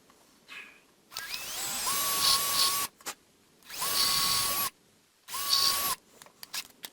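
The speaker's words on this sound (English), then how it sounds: "It's brass, so it drills pretty easy, but so does aluminum." A power drill bores into a brass carburetor part in three separate bursts, each a sustained whine that rises and then holds steady, with short quiet gaps between them. The drilling is close and alone, with no talking.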